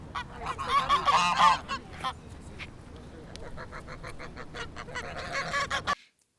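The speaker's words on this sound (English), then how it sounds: "Listen to some geese I recorded at a park." Geese at a park honk loudly in a dense cluster, then give scattered calls over steady outdoor ambience, with a second busy burst of honking before an abrupt cutoff.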